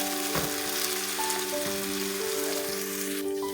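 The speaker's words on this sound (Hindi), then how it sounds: "प्याजों को हम गोल्डन कलर आने तक फ्राई करेंगे।" Chopped onions fry in a pan with cumin, giving a steady close sizzle and crackle with a few stirring scrapes, while soft sustained tones hum underneath.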